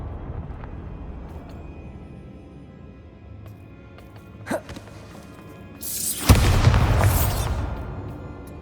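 A Bombarda blasting spell goes off in Hogwarts Legacy: a short sharp crack, then a loud, sustained roaring explosion that lingers for a couple of seconds over quiet ambient game sound.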